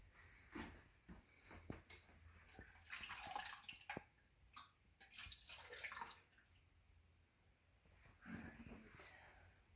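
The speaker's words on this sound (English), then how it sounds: "So I'm actually going to add that water because it said to have it come up about halfway on your meat." Water poured into an Instant Pot holding corned beef brisket, filling it about halfway up the meat; faint splashing and trickling come in bursts, close by, with soft handling noises between them.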